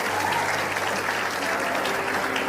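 A church congregation applauds during a hybrid worship service, giving a dense, continuous wash of clapping that holds evenly throughout.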